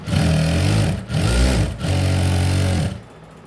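Close, loud sewing machine stitching a blouse in three quick bursts of rapid needle chatter separated by short pauses, with no talk.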